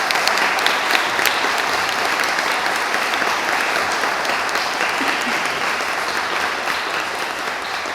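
Sustained audience applause fills a concert hall after an early-music performance at a baroque festival, a dense, steady wash of many hands clapping throughout without pause.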